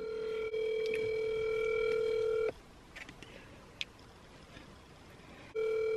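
A phone call rings unanswered during a prank call: a steady ringback tone sounds for about two seconds, falls silent for about three, then starts again, clear and close with no talk.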